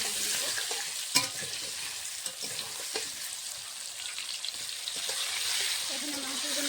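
Potatoes fry quietly in a pan with a little turmeric and salt while preparing chicken curry, a soft continuous sizzle with occasional faint clinks and stirring scrapes.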